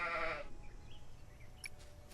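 A sheep in the video game Solarpunk lets out one short bleat at the start, followed by quiet background with no talking.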